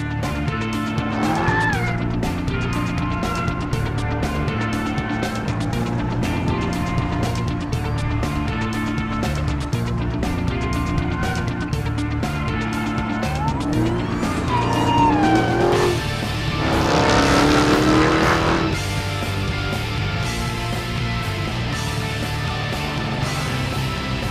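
Cars are driven hard around a ride-and-drive pad in the Palm Beaches, engines revving loudly throughout while tires squeal repeatedly, with one long, sharp skid near the end.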